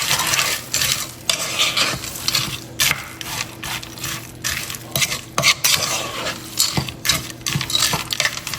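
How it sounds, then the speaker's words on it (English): Spoon stirring corn in a metal pot while food sizzles nearby, quick repeated scraping and clinking strokes in an uneven rhythm, close and fairly loud, no speech. "Stir it up a little bit."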